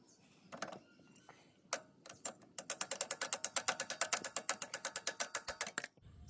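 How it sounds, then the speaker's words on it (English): A 13 mm ratcheting spanner loosens a footpeg bolt on a TVS Apache RTR 200 motorcycle, a few slow clicks followed by a fast, close run of even ratchet clicks that stops abruptly. "So let's remove this using a 13-inch spanner"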